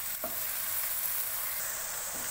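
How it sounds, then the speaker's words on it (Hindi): Garlic ginger paste sizzles in a pan while green chicken keema is being cooked, a steady, close frying hiss that holds without pause. "इसको थोड़ा सा फ्राई करने के बाद हम इसमें लहसुन अदरक का पेस्ट डालेंगे।"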